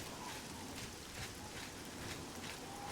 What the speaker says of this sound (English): Does it always rain this much here?